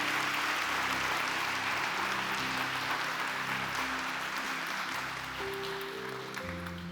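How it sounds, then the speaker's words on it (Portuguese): A church congregation at a Portuguese-language service applauds in a sustained, even roar of many hands, with a low hum and sustained organ-like tones underneath throughout. "Aplauda o Senhor, aplauda o Senhor,"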